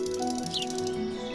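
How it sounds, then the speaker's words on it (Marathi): Sparrows chirp at a bird cafe in the grounds of Raj Bhavan, Nagpur, with one brief high call standing out over a steady tonal background bed. "चिमण्यांचा चिवचिवाट"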